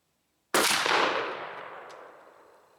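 A single loud, close blast from a Mossberg 835 12-gauge shotgun firing a Remington Express Magnum 3.5-inch 00 buckshot shell outdoors, a sharp crack after brief silence followed by a long rolling echo that fades away.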